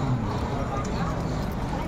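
Horse hooves clip-clop on a street in San Fernando, a town with a living horse culture. The steady hoof beats sit under a constant wash of outdoor noise and nearby voices.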